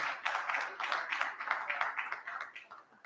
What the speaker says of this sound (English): Can we give Shelter Afrique a round of applause?